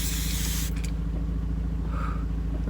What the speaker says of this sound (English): Spray water.